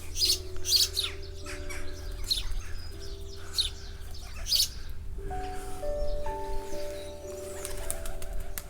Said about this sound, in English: All the sparrows and pigeons that are making nests.